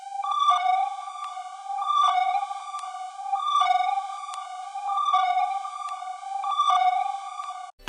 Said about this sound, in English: next I made this lead melody, and then I added gross beat to it